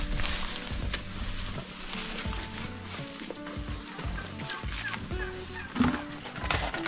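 Guinea fowl calling on a farm stockyard where cattle are kept, a busy stretch of repeated harsh gobbling and clucking cries from several birds, fairly close and continuous.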